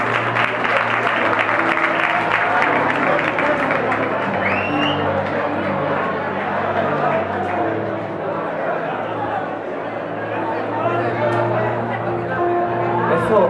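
A crowd at an event applauds steadily for a woman named Ortal, a continuous dense clapping with cheers mixed in, while someone speaks over it.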